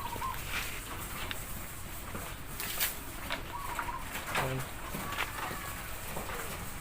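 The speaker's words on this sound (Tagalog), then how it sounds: "Yan mga kalapatids." Pet pigeons in a loft give soft, low coos in short bursts over a faint background hum, fairly quiet and close.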